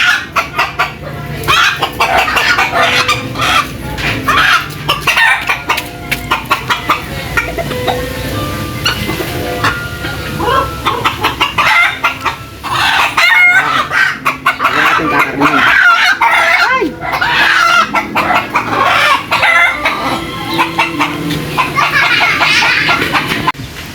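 Native chickens cluck steadily throughout, with a rooster crowing now and then amid a busy, noisy farmyard; a voice speaks briefly in the background.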